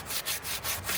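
Rhythmic hand sanding of wood on a restoration project, five quick even strokes rasping back and forth close by, with no one talking.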